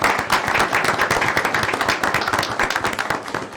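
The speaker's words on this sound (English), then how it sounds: "give Britta a round of applause." Applause from attendees at a city mayor and council meeting, honoring Britta: dense, continuous clapping from a roomful of hands, fairly loud and even throughout with a steady patter of overlapping claps.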